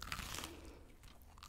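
Chewing and crunching from someone eating a bento in a convenience-store video game, a steady run of close, moist crunches and mouth sounds with no pauses.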